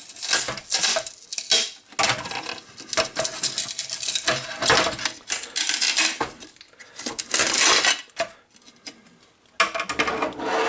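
The glass plate from an old printer's scanner is handled roughly, giving loud, repeated clinks, knocks and scraping clatter in uneven bursts with brief pauses and no talking.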